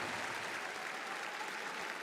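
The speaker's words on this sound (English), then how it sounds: "Let's get a big round of applause for Neta and Team Tundra." Steady applause from an esports tournament crowd for a team leaving the event, a dense, even wash of clapping filling the short moment with no voices.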